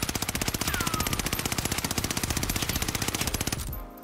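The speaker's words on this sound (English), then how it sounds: "So just to take some shots at the wall really quick, I want you to pay attention to the recoil of the AS44." Rapid automatic fire from an AS44 rifle shot at a wall in Call of Duty Warzone, a loud, steady stream of closely spaced shots lasting several seconds before cutting off abruptly into a short tail.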